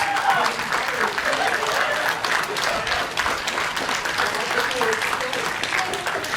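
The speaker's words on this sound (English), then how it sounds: "Let's give you a round of applause." Audience at an outdoor rights rally in Wheaton, Illinois breaks into a steady round of applause, dense clapping and crowd noise lasting several seconds with scattered voices mixed in.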